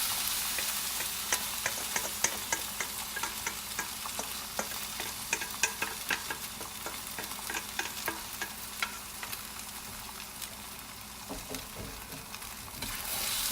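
Drunken noodles frying in a hot pan give off a continuous sizzle while a utensil stirs them, producing frequent quick scraping clicks throughout.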